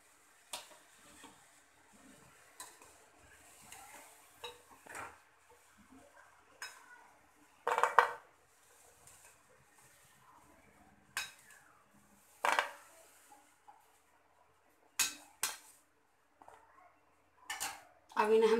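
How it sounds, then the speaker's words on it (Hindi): Metal utensils clink and scrape against a pot while hot fried bread gulab jamun are moved into sugar syrup, with scattered sharp knocks and clatters, some louder, over quiet kitchen background. "अब इन्हें हम चाशनी में गरम गरम को ही हम चाशनी में डाल देंगे।"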